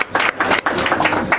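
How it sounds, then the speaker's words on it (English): At a Brisbane gathering, an audience gives the Brisbane greeters a round of applause: a short, loud burst of many hands clapping, with brief surges and dips and no talk over it. "Give them a round of applause."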